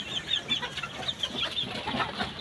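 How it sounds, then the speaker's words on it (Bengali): Farm chickens from a home-incubator batch cluck in soft, repeated bursts, several birds close together making a faint, continuous chatter. "এই যে এগুলো হচ্ছে আমাদের দ্বিতীয় চালানের মুরগি"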